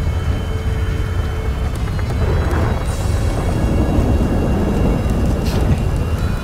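Rain and thunder in the game Grand Theft Auto V, a loud, constant roar of downpour with a low rumbling undertone that fills the scene steadily, no voices heard.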